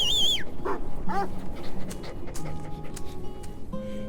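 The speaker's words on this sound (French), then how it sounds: "Oh, là, avec son petit chien." A small dog pants in the Farm Together video game, with quick soft breaths among light chimes and game sounds at a steady moderate level.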